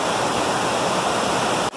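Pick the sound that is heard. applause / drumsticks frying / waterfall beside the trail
waterfall beside the trail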